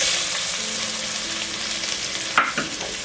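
Chopped big onion fries lightly in a pan with lemongrass pieces, giving a steady close sizzle, with one sharper stirring clatter near the end and no talking.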